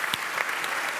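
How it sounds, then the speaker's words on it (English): Brief, fairly faint applause from the audience for the panelists at the close of an internet research panel discussion, a short patter of claps. "please give a warm round of applause for the panelists"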